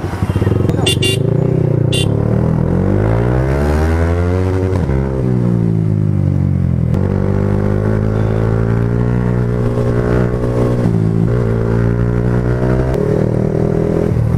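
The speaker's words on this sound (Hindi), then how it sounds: "स्प्लेंडर वाला रेस लगा रहा है" Motorcycles in a street drag race involving a Splendor, an R15 and an MT15, with one loud, close engine roaring steadily and revving up and down in rising and falling pitch sweeps, joined by brief clatter near the start.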